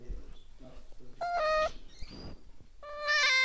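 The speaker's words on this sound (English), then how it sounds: "So this is a cat with a tiny microphone." A cat meows into a tiny microphone, giving several close, loud meows with rising and falling pitch, mixed with brief electronic-sounding chirps and some background voice.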